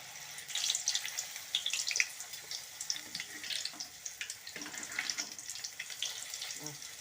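Beetroot puris sizzling as they drop into hot oil in a pan, a steady bright crackle and hiss of deep frying with small pops, close and continuous with no talk.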